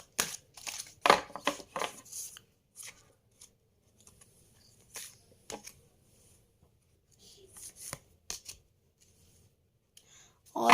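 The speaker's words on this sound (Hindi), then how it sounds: "एंजल प्लीज़ अमीना के लिए कोई 2 गाइडेंस कार्ड दें।" Tarot guidance cards are shuffled and drawn, making soft, irregular papery flicks and riffles, some quick bursts and some isolated snaps, close but faint.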